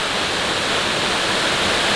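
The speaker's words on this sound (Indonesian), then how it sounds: "Inilah air terjun dia." A tall waterfall of about 20 meters in Tambunan, Sabah, near Gunung Alab, roars as a steady, loud, close rush of falling water with no voices.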